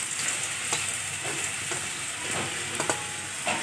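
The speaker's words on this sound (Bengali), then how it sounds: "কুমড়ো, আলু, ফুলকপি উঠছে, 5 রকম ভাজা।" Pumpkin, potato and cauliflower pieces fry in hot oil, a steady close sizzle broken by sharp crackles and stirring taps at irregular intervals, with no voices.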